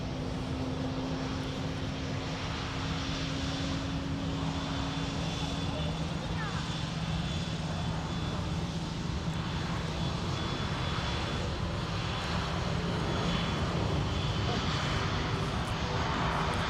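A fixed-wing airliner rolls for takeoff on runway 30 right at Minneapolis–Saint Paul airport, its engines a steady, broad roar heard at a distance, continuous throughout with a constant low hum and faint radio-style talk underneath.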